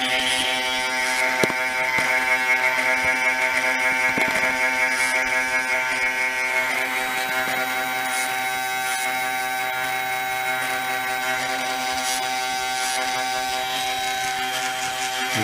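Servo and electric motor of an Arduino-controlled self-balancing gyroscope two-wheeler running, a steady close mechanical whine and buzz with a few clicks and jerky shifts, no talk.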